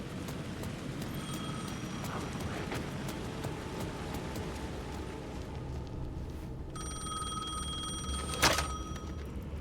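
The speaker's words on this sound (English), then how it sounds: "The phone was ringing again." Telephone ringing in the video game Alan Wake 2, repeated electronic rings in bursts over a dense, murky ambient bed, the last ring bright and close near the end, with no speech.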